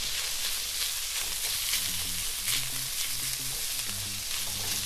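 Garlic paste frying steadily in a hot pan for an Indian fish curry, a dense continuous sizzle with faint scraping stirs, close and alone without talk.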